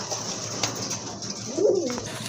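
Pigeons cooing, large healthy birds kept for sale, with one clear nearby coo rising late over a steady background murmur and faint rustling.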